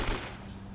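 A short, dense burst of rapid gunfire from the video game Uncharted: Drake's Fortune, loud at the start and then fading slightly.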